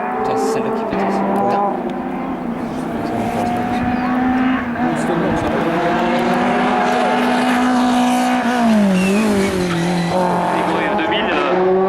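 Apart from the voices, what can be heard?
race car passing at speed in a hill climb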